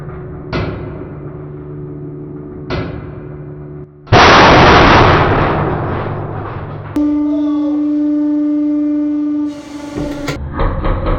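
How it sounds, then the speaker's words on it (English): A tungsten piece bursts under a hydraulic press with a loud, sudden crack, followed by a long rushing decay and then ringing tones. Earlier, two sharp cracks sound at intervals over a low hum, and sharp clicks follow near the end. "It exploded, all right."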